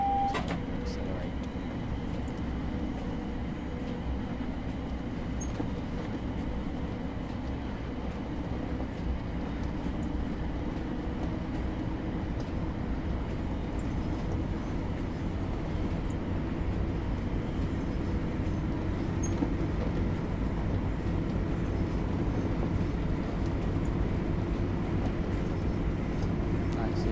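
A Southeastern high-speed Desiro City electric train accelerating in Train Sim World 3, heard as a steady low traction rumble and hum that drones on evenly for the whole stretch with a faint high whine above.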